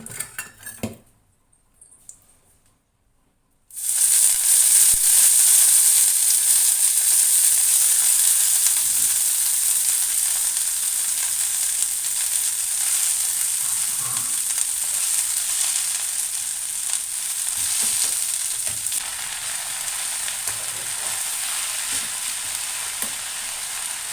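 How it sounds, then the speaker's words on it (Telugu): Mint leaves frying in a little oil in a pan for peanut chutney, a steady bright sizzle that starts abruptly after a short quiet stretch, with occasional utensil clinks and stirring. "ఒక్క చుక్క ఆయిల్ వేసుకుందామండి ఇందులో పుదీనా వేపి వేసుకుందాము"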